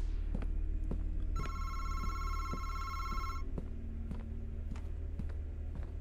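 A telephone rings indoors with a steady electronic trill lasting about two seconds, set against a constant low hum and scattered clicks, with no talking.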